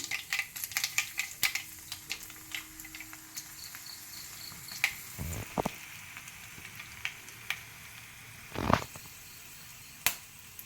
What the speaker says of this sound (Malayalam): വറ്റൽമുളക് ഇട്ട് കൊടുക്കാം.